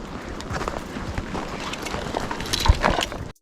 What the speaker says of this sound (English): All you could hear is my footsteps.